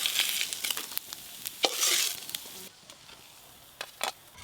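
Small fish sizzle in oil, a bright frying hiss punctuated by sharp spatula clicks, swelling in short bursts and then easing to quieter crackling.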